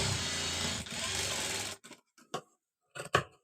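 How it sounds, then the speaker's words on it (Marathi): A sewing machine stitches a side seam on a garment in a loud continuous whirring run that lasts under two seconds, followed by a few short bursts of stitching with quiet gaps between them. "आता आपण दुसऱ्या भागाला पण तशीच टीप मारून घेणार आहोत"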